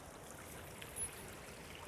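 A creek on a four-acre homestead in Northern Virginia flowing steadily, a faint, even wash of moving water with no other sounds.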